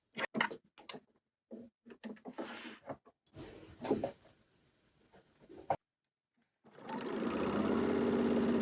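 A serger sewing machine stitching a T-shirt. Bursts of handling and clicking come first, then a short stretch of quiet, and then the motor starts up loud and close in a steady rapid whirr.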